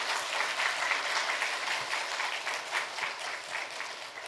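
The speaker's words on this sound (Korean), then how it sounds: "자, 박수로 우리가 통과시킵시다." Church congregation applauding in approval of a building decision, a steady wash of many hands clapping at once, distant and sustained without a break.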